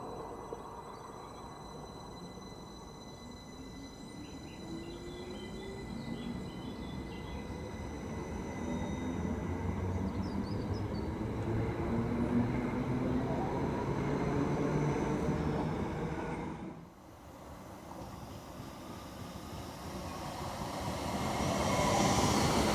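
Train running fast through a Yorkshire station on the Skipton, Settle and Carlisle line, a steady rumbling roar building over about twenty seconds with a brief dip, heard alone without talk.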